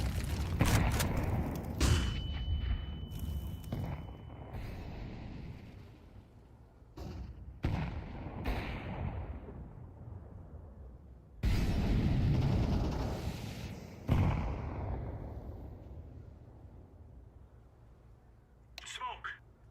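Heavy explosions from grenades in Counter-Strike 2 boom out one after another, several big blasts with long decaying rumbles, spaced irregularly, with radio-style voice callouts in between.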